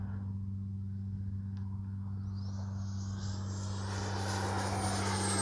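A FLYFANS L-39 Black Diamond RC jet with a 64mm ducted fan flies overhead, a steady electric drone rising into a growing high whine that swells louder toward the end.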